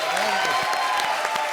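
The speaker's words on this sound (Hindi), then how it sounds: "एक बार जोरदार ताली." A comedy show audience breaks into applause, a short burst of clapping with a voice briefly audible over it, fairly close and lively.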